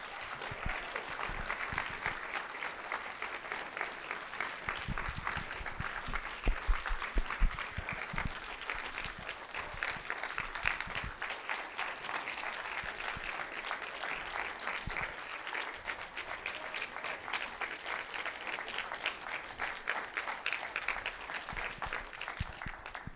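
Audience giving a sustained round of applause after a talk on religion, dense continuous clapping from many hands at a steady level, heard on its own.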